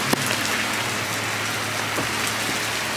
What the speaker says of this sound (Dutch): maar het regent zo hard.